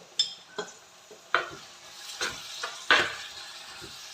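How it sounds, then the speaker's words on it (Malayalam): Beef curry stirred in a pan, a spoon scraping and knocking against the metal in a few separate strokes over a soft sizzle, close and alone, with no talking. "അത് നന്നായിട്ട് ഇളക്കി കൊടുക്കാം"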